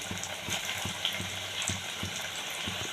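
Pakoras frying in hot oil over a medium gas flame make a steady, close sizzle with soft bubbling and faint crackles running evenly throughout, with no talking.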